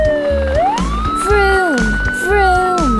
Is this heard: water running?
no